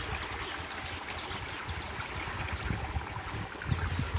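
Fresh water flows steadily at a spring in Abim Town, Uganda, a continuous close rushing and gurgling with small splashes.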